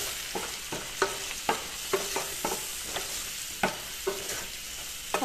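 Mango chicken curry with cumin powder and salt fries in a pan while a spoon stirs it, giving repeated sharp scraping clicks over a steady sizzle, close and distinct.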